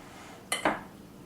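Utensils knock and clink twice against a bowl as sliced black olives and other salad ingredients are mixed, two close, sharp taps with quiet room tone around them.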